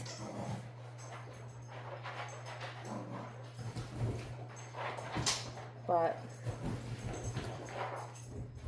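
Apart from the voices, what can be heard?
dog running around in circles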